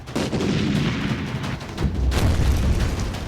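Heavy booming blasts from cross-border strikes on Pakistan roll in one after another, loud and reverberant, with a deep rumble building toward the end.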